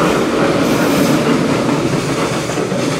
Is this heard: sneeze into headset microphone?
no